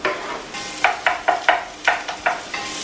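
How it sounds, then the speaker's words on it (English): Chopped onion sizzles in a frying pan for chilli con carne while being stirred, a close, steady hiss broken by a run of sharp scraping strokes. "You want to hear that sizzle, that's good."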